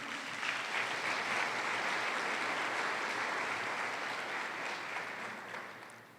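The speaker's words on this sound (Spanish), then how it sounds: "¿Puede darle un aplauso al Señor?" A church congregation applauds during a Spanish-language sermon, a steady, fairly distant wash of clapping that holds evenly and then fades slightly at the end.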